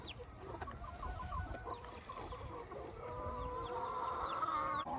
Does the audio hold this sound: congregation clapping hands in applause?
no